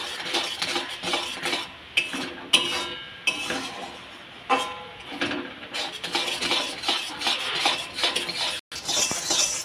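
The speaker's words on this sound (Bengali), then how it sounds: "সমানে তালটাকে নেড়ে যেতে হবে, তাহলে কড়াইয়ের নিচে লেগে যাবে না।" Palm fruit pudding with sugar is stirred in a wok, giving repeated close scraping and clinking of a spoon against metal in an uneven rhythm.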